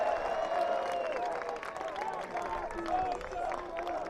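Local spectators at the Paganello 2015 ultimate frisbee final between Tequila Boom Boom and H.E.U. on the beach clap and cheer in a moderate, scattered wave, with crowd chatter and voices mixed in.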